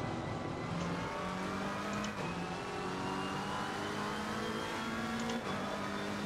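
A McLaren race car engine in Assetto Corsa Competizione drones steadily, holding a loud, constant pitch with small shifts as the revs change. No voices are heard.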